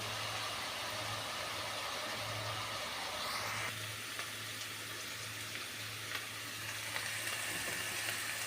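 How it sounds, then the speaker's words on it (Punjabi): Onions frying in a pan for a mixed drumstick and soy vegetable curry: a steady broadband sizzle that holds throughout, with a low hum underneath and faint stirring scrapes, no talking. "ਪਿਆਜ਼ਾਂ ਨੂੰ ਵੀ ਆਪਾਂ ਪਕਾ ਰਹੇ ਹਾਂ"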